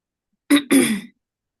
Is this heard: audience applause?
no